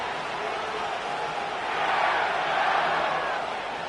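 Stadium crowd at SoFi Stadium in an EA Sports NFL game, Rams versus Washington: a steady, distant roar of many voices that swells a little midway and holds without pause.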